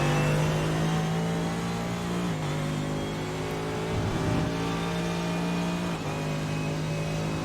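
A flame-throwing McLaren GT race car in a sim racing game at Silverstone, its engine holding a steady, buzzing high-revving drone, with brief pitch dips like gear shifts, loud and continuous.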